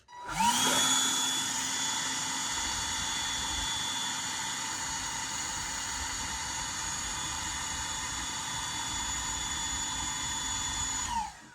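A Milwaukee cordless handheld leaf blower starts up and runs at full power, a loud steady whine and rush of air held for about eleven seconds before cutting off.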